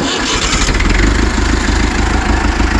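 Massey Ferguson 865 tractor engine cranking over and catching, then settling into a steady, loud, rumbling idle close by with no talk.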